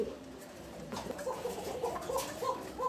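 Cooing and soft calls from a pair of Damascene pigeons, a few close murmuring coos repeating over steady low background noise, with no talk.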